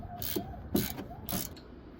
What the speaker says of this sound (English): Get that on there, and we can break the caliper bolt loose.